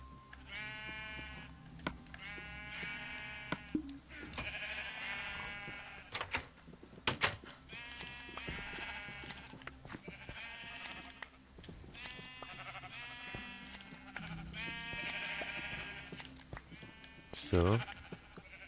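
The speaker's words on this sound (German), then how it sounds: "So ein Haufen Schafe, das ist echt Massenhaltung hier." Minecraft sheep in a crowded in-game pen bleat repeatedly in short clustered calls throughout, with someone talking over them.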